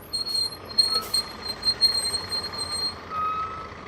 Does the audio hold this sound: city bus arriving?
yes